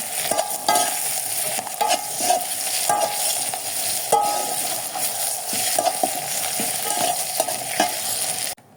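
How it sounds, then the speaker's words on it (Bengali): Pointed gourd fries in oil with onion and green chili, a constant loud sizzle punctuated by rhythmic spatula scrapes and knocks against the pan, close and uninterrupted by speech. "এই যে পটলের মধ্যে পেঁয়াজ আর কাঁচামরিচ দিয়ে দেবো, দিয়ে বললাম ভালো মতো ভেজে নেবো এইভাবে।"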